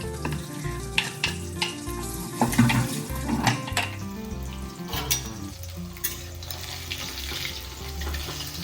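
Fish shallow-frying in oil in a pan, being turned over, with a steady close sizzle and scattered clinks and scrapes of a utensil against the pan.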